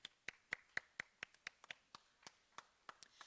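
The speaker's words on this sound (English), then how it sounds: "give them a round of applause" Sharp, evenly spaced claps from a small group at a school awards ceremony, crisp and fairly close, steady rhythm with no voices.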